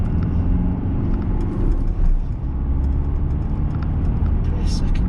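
A 2009 Mercedes-Benz W204 C200 drives on the road, a steady low engine and road rumble swelling and easing as it speeds up and brakes, heard from inside with no break in the drone.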